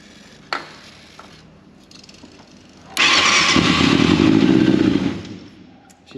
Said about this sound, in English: She's starting up real easy now.